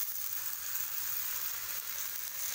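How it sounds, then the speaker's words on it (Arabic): Tomatoes laid into a hot frying pan sizzle with a soft, steady hiss, fairly quiet and continuous, with no voices over it. "ننزل اول الطماطم نرصصها كده عندنا"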